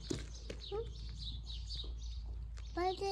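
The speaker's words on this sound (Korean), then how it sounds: "새소리 너무 예쁘다." Small birds chirp and trill in short, bright bursts at moderate distance in the Burgundy countryside of France, with a low steady hum underneath and brief child-like vocal sounds near the start and end.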